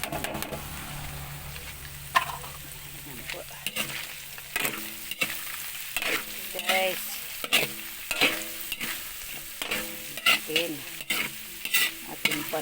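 Cheese hotdogs cook in a pan of pancit, with a quiet sizzle under repeated sharp scrapes and clacks of a utensil stirring against the pan.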